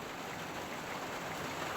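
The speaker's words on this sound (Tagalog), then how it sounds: "umuulan po guys. Kumukulog kumikidlat guys." Heavy storm rain pours down steadily, a dense continuous hiss of falling water with no break, heard on its own without voices.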